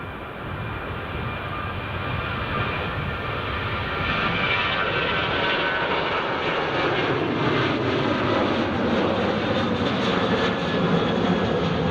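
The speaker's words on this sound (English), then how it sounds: "Ryanair 737 just rolling." A Ryanair Boeing 737 rolls for takeoff at Edinburgh Airport, its jet engines a loud, steady broadband roar that holds strong and even throughout, with a slowly shifting whine over the rumble and no voices.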